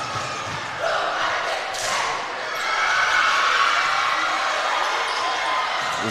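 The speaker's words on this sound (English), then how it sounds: "As the cheer team turns up the volume." A high-school varsity basketball crowd and cheer team roar loudly and continuously in a gym, swelling in volume throughout.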